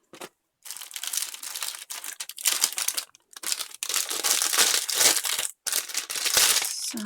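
Paper being folded in half for a handmade album, with crisp crinkling and crumpling rustles in repeated bursts separated by short pauses, close and fairly loud.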